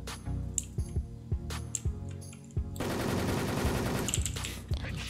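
Gunfire from a one-shot weapon in the online shooter Wolfteam: sharp single reports spaced about half a second apart, then a denser stretch of overlapping shots and game noise.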